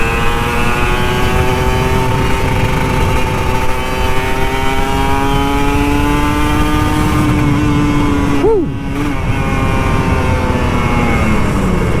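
An older Kawasaki Ninja RR 150 motorcycle engine drones loud and close with a strong, steady tone, its pitch slowly climbing before a brief dip and recovery, while the ride continues.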